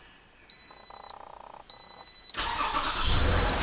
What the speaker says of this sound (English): Let's fire this turd up.